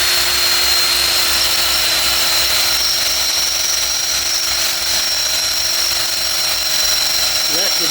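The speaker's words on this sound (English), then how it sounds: "Let the drill do the work." A power drill whines continuously and loudly while boring into a jack plate bracket on a small boat transom, a steady high-pitched drone with a faint hint of a voice beneath.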